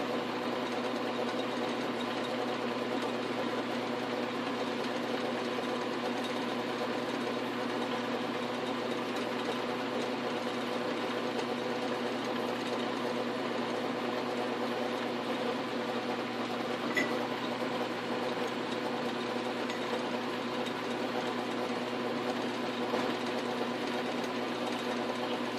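A small metal lathe runs steadily while turning a prop sleeve nut adapter extension with a quarter-28 thread, a continuous whirring motor drone with a faint rhythmic mechanical tick and no talk.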